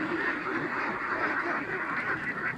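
Ducks raised on a backyard farm quack in a continuous, dense chorus from a large flock, steady and close without pause.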